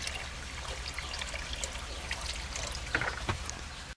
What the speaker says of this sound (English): so we slowly pour the acid in.